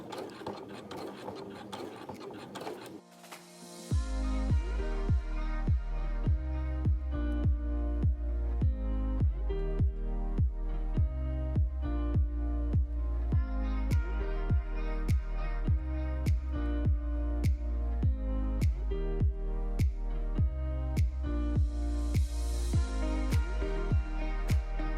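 A sewing machine topstitches fabric 5 mm from the edge, its motor starting after a brief quiet handling noise, then running in a steady, close rhythmic chatter of needle strokes with small pauses and restarts.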